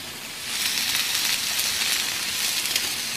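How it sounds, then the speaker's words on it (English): Venison medallions searing undisturbed in a hot pan on the stove, a steady close sizzle and hiss that swells slightly then holds evenly throughout. "I'm not shaking it, just leaving it on the stove, allowing the venison to caramelize"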